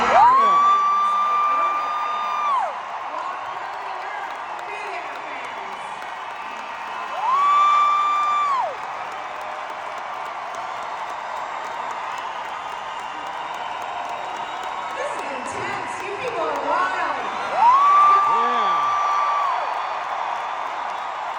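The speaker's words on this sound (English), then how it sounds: "You can clap for swooning." An audience at a Rock and Roll Hall of Fame induction breaks into applause and cheering in a large hall, short swells of clapping and whoops recurring between stretches of amplified speech.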